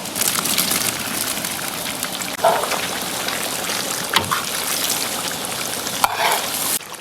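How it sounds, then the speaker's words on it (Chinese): Beef, dried scallops, dried shrimp, fermented black beans and red chilies fry hard in a wok, a dense continuous sizzle broken by a few clanks and scrapes of stirring, close and loud with no talk. "辣椒炸香，放入干贝和海米， 加入豆豉，加入牛肉，"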